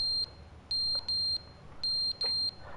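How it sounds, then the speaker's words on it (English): Smoke alarm chirping for a low battery, heard in the Stanley Parable game: a steady series of short, high electronic beeps in small bursts, fairly loud and with no talk. "who forgot to change the smoke alarm batteries?"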